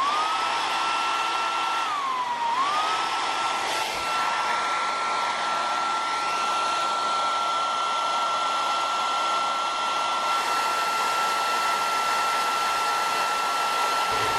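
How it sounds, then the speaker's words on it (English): Blow dryer runs steadily on a block of clear ballistics gel, a loud, constant high whine and airy roar with a brief dip in pitch early on, no talk. "I just ran that blow dryer on the gel for about 20 minutes."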